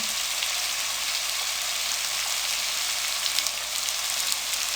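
Soy sauce in a hot pan makes a constant, bright sizzle that stays even and close throughout, with no voices.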